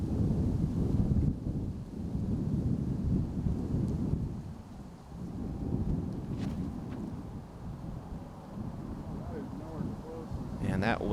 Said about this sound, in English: that wind is just crushing that forehand